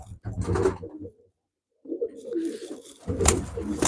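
Pigeons coo inside a loft, low throaty calls arriving in close bursts with a short silent break between them.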